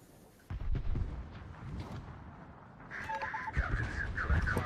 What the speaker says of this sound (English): Let's see if I can one-shot the Kagero with an airstrike